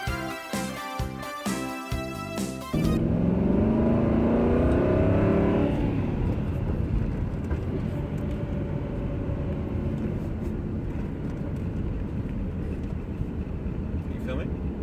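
Famous bumper-to-bumper Aston Martin, formerly Doug DeMuro's car, being driven: a steady loud engine and road drone from inside the cabin with a rising tone early on, after a brief burst of music.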